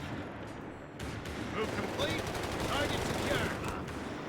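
Sniper fire in Company of Heroes 3 during a Wehrmacht versus US Forces match, distant gunfire cracks among dense battlefield noise, fairly faint, with a commentator's voice faintly present.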